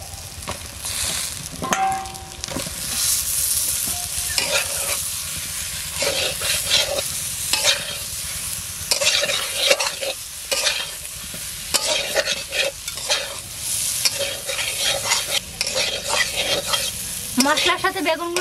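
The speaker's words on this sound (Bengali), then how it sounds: "মশলার সাথে বেগুনগুলো সুন্দরভাবে ভেজে নিয়েছি" Brinjal pieces fry with coriander powder, salt and spices in a village kitchen pan, a steady crackling sizzle broken by repeated scraping stirs of a spoon, close and fairly loud with no talking.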